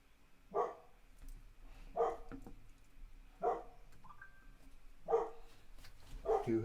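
A dog barks indoors at a distance, five spaced single barks at a steady rhythm of roughly one every one and a half seconds, moderately faint against a quiet room.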